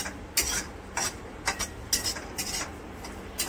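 Mustard dal being dry-heated and stirred in a pan, a string of short light scraping and rattling strokes at a steady rhythm, close and moderately quiet.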